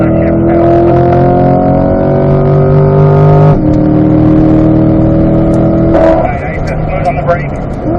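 A C8 Corvette at full throttle on Spring Mountain Raceway screams loudly as revs climb, drops sharply on a gear shift and climbs again, with an instructor talking over it.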